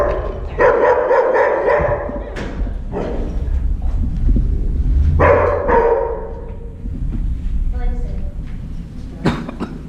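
Dog barking in repeated loud bursts during a jump-training session, with people talking nearby between the barks.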